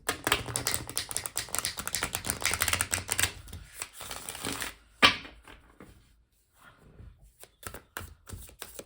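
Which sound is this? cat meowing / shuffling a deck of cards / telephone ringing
shuffling a deck of cards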